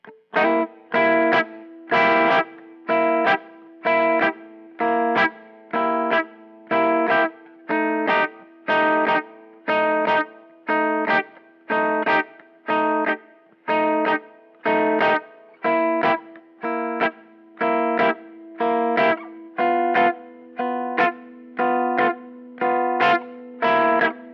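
Distorted electric guitar chords strummed on the 2nd, 3rd and 4th strings in a steady, repeating rhythm, bright and mid-heavy with chorus-like shimmer, played alone with no voices.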